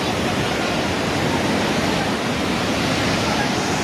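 A loud, constant roar of rushing floodwater in Nepal fills the whole stretch, dense and unbroken like a torrent, with no pauses.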